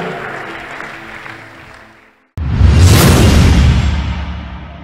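Church congregation clapping for the Lord at a testimony broadcast, a dense burst of loud applause that starts abruptly after a brief silence and carries on steadily to the end.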